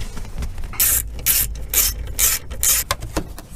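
A ratchet drives screws in repeated bursts of rapid clicking, about five loud close strokes in quick rhythm, during a transfer case control module replacement on a 2002 Dodge Durango.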